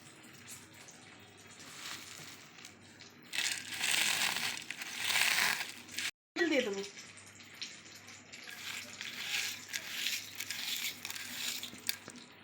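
Garlic, fried pumpkin, chili and onion are mashed by hand for a Bengali New Year meal, giving close, wet squishing and crushing sounds in uneven bursts, with a short silent break midway.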